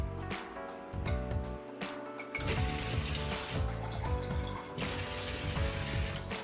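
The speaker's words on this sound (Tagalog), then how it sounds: "Tapos lagyan natin ng tubig." Water splashes and trickles into a cooking pot on a home stove, a short pour with clinking pot sounds and kitchen noise around it.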